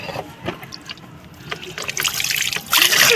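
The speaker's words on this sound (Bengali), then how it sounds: "পুকুরে স্নান হচ্ছে, পুকুরে স্নান" Water splashing and trickling as a child is bathed in a pond, with irregular splashes that grow louder and brighter toward the end, close by and without speech.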